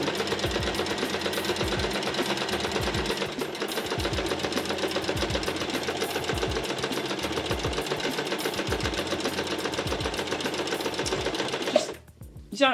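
A sewing machine topstitches a tote bag in a long, steady, close whir with a regular mechanical pulse, running for about twelve seconds before stopping abruptly with a clunk.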